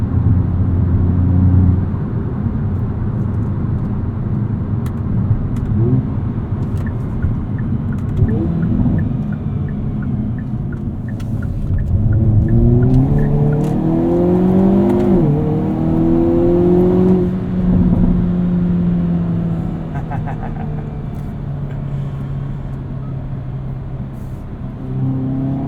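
A 2022 Hyundai Kona N launches hard off the line with a little wheel hop, a loud close engine roar climbing through revs with a shift partway through, no talk.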